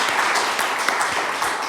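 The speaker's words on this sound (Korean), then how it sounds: "우리 최철희 선교사님께 한번 우리 박수로 한번" Audience applause at a Korean church organization's general assembly and leadership inauguration ceremony, a dense steady burst of many hands clapping filling the room, fairly loud and continuous.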